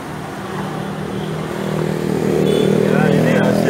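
A 2020 Nissan Livina 1.5L engine fitted with an HHO fuel saver is revved, its close mechanical roar swelling steadily louder over a few seconds while a person talks nearby.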